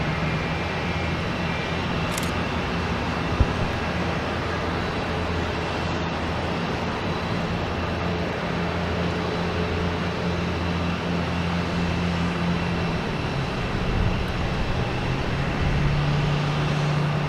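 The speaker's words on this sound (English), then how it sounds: "Next taking off is a JetBlue heading to Wilmington, A220" A JetBlue Airbus A220 takes off at Boston Logan, its engines a steady, broadband roar that holds level throughout, with a faint low hum running beneath.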